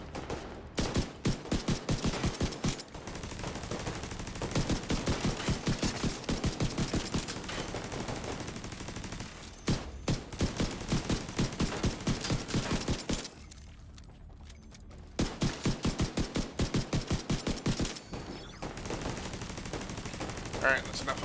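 Turret machine-gun fire in a video game, rapid loud bursts of automatic shots lasting a few seconds each, broken by short pauses and one quieter gap, with faint talk underneath.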